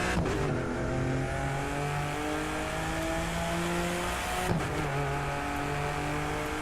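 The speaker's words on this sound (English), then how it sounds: "Got a nice turbo sound though." Turbocharged Alfa Romeo in The Crew 2 racing game, its engine holding a steady mid-pitched drone that climbs gradually, briefly dipping near the end as if shifting, then pulling on again; no voices over it.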